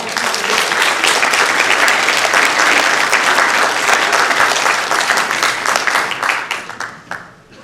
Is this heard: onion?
no